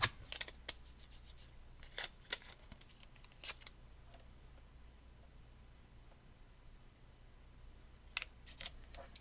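Scissors snip through card stock in a hobby card-making session, sharp short cuts in small clusters near the start and again near the end, with quiet pauses between.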